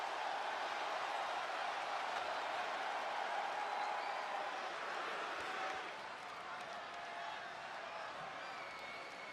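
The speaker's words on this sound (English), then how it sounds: "The crowd is buzzing about what he has to say about the champ." A wrestling arena crowd buzzes steadily before a promo, a dense, distant murmur of many voices with faint cheers that eases slightly in volume partway through.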